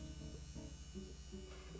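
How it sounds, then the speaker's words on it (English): Faint electric motor buzz from a chef robot straining to turn its stirrer, a steady low hum with slight pulsing, alone and quiet. "The motor is definitely still on, and it's trying to turn it."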